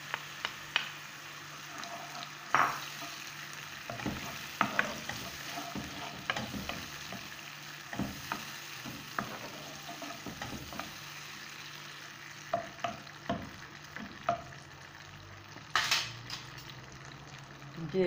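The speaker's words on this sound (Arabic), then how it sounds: "نقليه غير شوية برك. ندير عليه الطوماطيش تاع الحبة" Eggplant fries with diced tomatoes in a pan for a cheese-topped eggplant shakshuka, giving a low steady sizzle broken by scattered clicks and scrapes of stirring, close and fairly quiet, with no talk.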